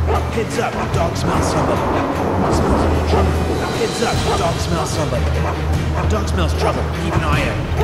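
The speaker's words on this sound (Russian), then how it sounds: "Да заткни ты уже свою собаку" Dog barking in the stealth video game Mark of the Ninja, repeated yips and barks over a low rumbling mechanical drone, with a voice talking alongside.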